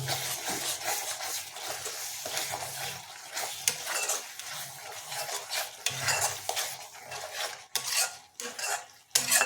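Spatula scraping and stirring ground spices, including cumin powder, in a metal pan for a vegetarian paneer curry, with a steady run of clinks and rasping scrapes close up and faint sizzling beneath.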